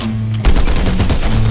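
A burst of rapid, close gunfire erupts partway through a Fortnite Battle Royale match, loud repeated shots continuing to the end after a brief quieter lead-in with a steady hum.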